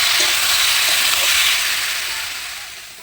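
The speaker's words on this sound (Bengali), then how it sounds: "এবার তেল ছেড়ে দিয়েছে, এবার কষানোটা আমার প্রায় হয়েই এসেছে" Country chicken curry sizzles loudly in oil as it is sautéed in a pot over a clay stove, a dense, close hiss that eases off toward the end.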